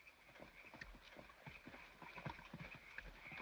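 Hooves of two horses ridden by two men, a soft, quick clip-clop at moderate distance, steady and fairly faint, with no other sound standing out.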